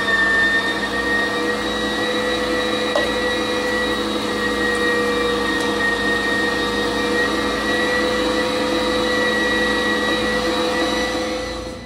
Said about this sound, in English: With this particular grinder, you don't want to force that down in there and just try to jam it as hard as you can